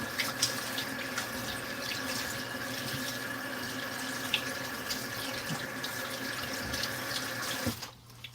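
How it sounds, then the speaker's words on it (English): Tap water running steadily into a kitchen sink during hand washing, a close, constant splashing rush that stops abruptly near the end. "And I'm going to wash my hands a little bit."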